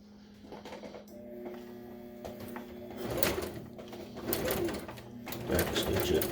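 A sewing machine stitches upholstery material for a 1966 GMC seat bottom, its motor whirring in short bursts that grow louder and busier toward the end, with some handling clatter in between.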